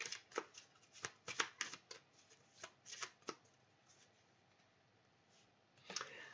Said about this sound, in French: Alors, je vais te sortir une carte de Louise Hay.